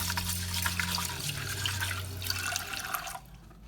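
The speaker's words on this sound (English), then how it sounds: "and I'll wash the rice" Rice being washed with water in a pot, a close, continuous splashing and sloshing of water that stops abruptly near the end.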